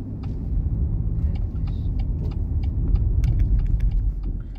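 A car accelerates away on a German road during a driving lesson, its engine rumble steady and close inside the cabin, with small clicks and rattles over it.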